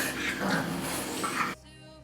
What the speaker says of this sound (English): My dogs are literally attacking each other, like play fighting right now